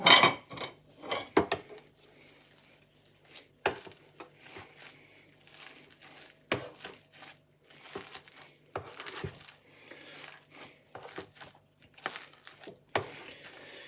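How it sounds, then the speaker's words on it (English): A hand masher works through a pot of potato topping for a haggis cottage pie, giving a run of scattered knocks, scrapes and soft squashing clatters at close range, some brief and sharp, with no talk. "Oh, there's a few lumps there. So let's get the masher back in."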